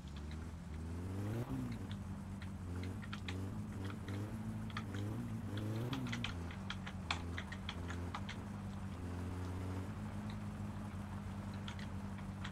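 A car engine in the video game My Summer Car, a vehicle with a popping or backfiring problem, hums steadily at idle and swells through several rev rises, with scattered sharp clicks over the continuous drone.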